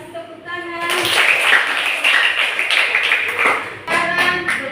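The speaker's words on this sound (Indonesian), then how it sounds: "Baik, kasih tepuk tangan." A classroom of students claps for a classmate's answer, a short burst of scattered, bright handclaps lasting a few seconds.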